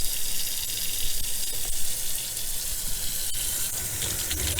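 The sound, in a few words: water running from kitchen sink tap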